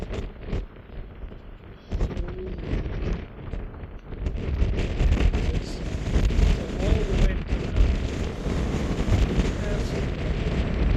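Strong wind sweeping up the mountain at a canyon edge near an arch in Utah canyon country, buffeting the microphone in loud rumbling gusts that build and stay heavy, with a voice talking early on.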